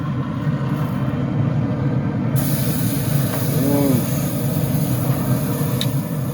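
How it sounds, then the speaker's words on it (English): A tomahawk steak sears on a hot Pit Boss 1150 pellet grill with a dense, continuous sizzling hiss and rumble. The sound stays close and steady for about six seconds, with a brief higher tone partway through. "Once this fire is ready, we'll go ahead and start searing."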